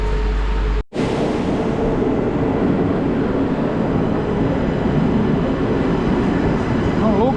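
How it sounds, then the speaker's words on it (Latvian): A train pulls into a station in Latvia with a steady, loud rolling rumble and rushing noise that holds throughout after a brief dropout near the start. "Lūk, arī vilciens."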